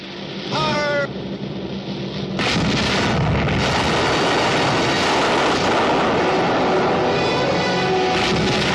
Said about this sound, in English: Open fire to sink her.